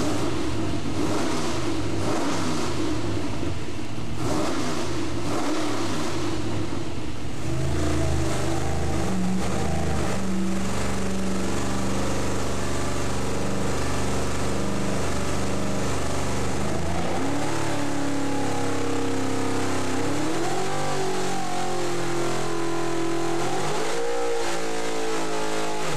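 A Pontiac engine makes power pulls on a dyno, first rough and loud, then climbing in a long, steady rising howl through the revs before it drops off and settles, with no talking.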